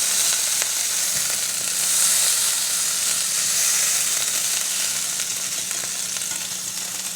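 A burger patty sizzles steadily on a hot grill, a loud continuous crackling hiss with faint scraping taps and no speech.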